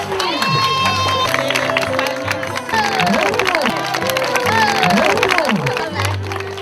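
A crowd of villagers at a Bajau sea-nomad wedding claps and cheers as the bride and groom enter, with loud steady applause mixed with excited shouting voices and children calling out throughout.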